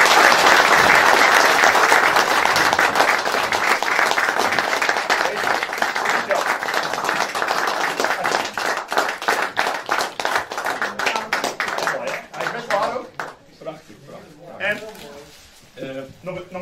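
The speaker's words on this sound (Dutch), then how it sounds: "Een groot applaus voor Kees van der Wiel." Dutch audience applause at an award handover, loud and dense at first, then thinning into scattered separate claps as it dies away, with a few voices murmuring near the end.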